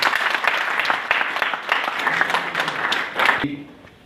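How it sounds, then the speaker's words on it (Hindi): Audience at a business and entrepreneurship event in Udaipur bursts into dense, loud applause that holds steady for over three seconds, then cuts off abruptly into near silence. "मैं आप सभी से कहूंगा, जोरदार ताली बजा के आप उनका अभिनंदन करें।"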